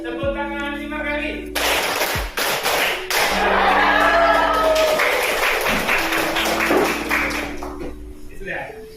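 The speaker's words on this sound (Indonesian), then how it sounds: "Tepuk tangan 4 kali" Hands clapping in counted groups in a classroom, a few sharp claps coming in bursts between stretches of a teacher's voice giving counts, with a steady low hum underneath.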